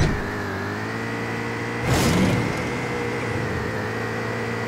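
A car drives in the Rules of Survival video game, with a steady, droning engine hum throughout and a short, louder surge partway through; no voices are heard.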